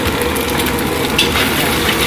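Mie goreng noodles frying at a roadside street stall, a steady dense sizzle with stirring and scraping running continuously and loud throughout, with no voices over it.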